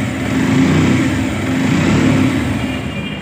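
Close and loud, a Bajaj Pulsar motorcycle idles just after a self-start, its engine holding a steady, even low throb with no revving.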